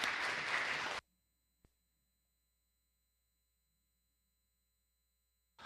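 Church congregation applause welcoming a speaker during a Sunday worship service, a loud burst of clapping lasting about a second that cuts off abruptly into near silence, with a faint click afterward and another clap starting at the very end.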